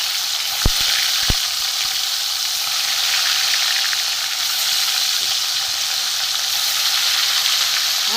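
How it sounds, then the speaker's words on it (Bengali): Hilsa fish frying in hot mustard oil in a pan, a dense, steady sizzle close by with a couple of sharp clicks near the start. "মাছগুলো একটু ভেজে নেব এপিট ওপিট করে।"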